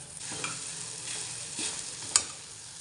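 Soft-cooked dal for puran is tipped into a hot pan and stirred, giving a low sizzle broken by a few scraping strokes and a sharp clink near the end.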